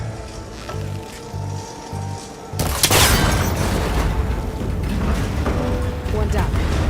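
In the video game Horizon Forbidden West, a cable connector is shot and breaks with a sudden loud burst partway through, followed by sustained crackling debris over a mechanical game ambience.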